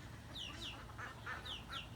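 Turkeys, heavy 60-pound birds, give a series of short, high clucking calls in pairs, close by and moderately loud, with no talking.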